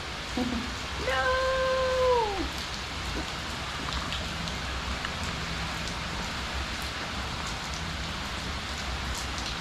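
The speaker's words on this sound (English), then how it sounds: "Rain, rain, rain, rain." Rain falls steadily in the Orlando, Florida area, making a continuous close hiss on surfaces. A brief whistling call rises over it early on.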